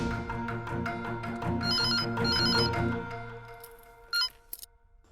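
A landline telephone ringing in a home, repeated bright electronic ring bursts in steady rhythm, close and loud, ending with a click as it is picked up.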